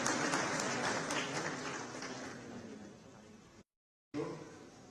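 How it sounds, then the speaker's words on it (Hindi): Hearty applause welcomes a guest at a crime literature festival in Dehradun, a fairly faint, steady wash of clapping that slowly fades before a brief dropout and a short burst of resumed clapping. "लाल सर को जोरदार तालियों के साथ उनका भी स्वागत कीजिए।"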